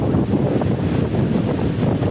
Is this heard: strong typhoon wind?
yes